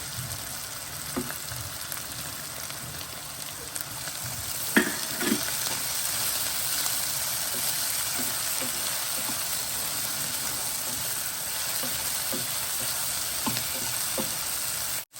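Green garlic sizzles and fries in hot oil in a pan for a dish of fresh green chickpeas, a steady crackling hiss with a few sharper pops and stirring scrapes, close and continuous with no talk.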